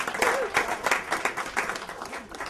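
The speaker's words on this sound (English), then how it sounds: "let's hear a round of applause for all of our brave folks" Audience applause at a story slam event, dense crowd clapping that rises and falls over two and a half seconds, with faint voices mixed in.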